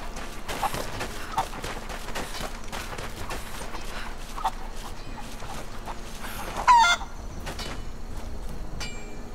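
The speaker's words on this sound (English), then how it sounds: "I'm rounding up chickens for you" Chickens in the video game Rise of the Tomb Raider: scattered soft clucks over a steady background of game ambience, with a brief louder burst of clucking partway through.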